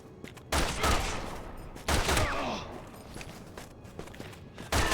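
Gunshots in the Resident Evil 6 video game: loud, sharp shots fire at irregular intervals, with a couple of heavy reports and some scuffling movement between them, close and punchy.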